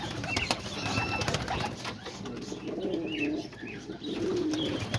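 Domestic pigeons cooing in a loft of newly paired birds, with repeated low soft coos and occasional chirps from several birds close by, plus faint wing rustles, alone without talk.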